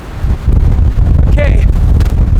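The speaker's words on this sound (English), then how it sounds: "It's got to be 50, 60 mile an hour winds now" Strong storm winds of 50 to 60 mph roar continuously against an outdoor shelter, a loud, steady buffeting rumble with gusts throughout and a voice briefly audible in the middle.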